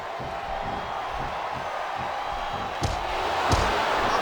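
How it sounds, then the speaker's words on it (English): Arena crowd from the WWE SmackDown vs. Raw 2007 video game during an elimination tag match, a steady broad roar with rhythmic thumping beats underneath and a couple of sharp slams near the end, alone without talk. "It sounds like this capacity crowd has something on their minds, Taz."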